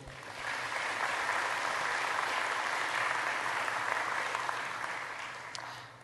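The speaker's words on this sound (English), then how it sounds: "let's all welcome Christopher to the stage with a big round of applause" An audience at a software security conference applauds to welcome a speaker to the stage. The clapping swells quickly, holds a full, even roar, then tapers off toward the end.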